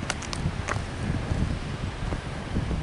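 Strong wind in a Canadian snowstorm blows steadily and close against the microphone, with broad low rumbling buffets and faint rustling throughout, with no voices.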